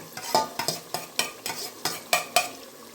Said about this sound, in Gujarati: ત્રણ મિનિટ માટે આપણે બરાબર તેલમાં સાંતળી લઈએ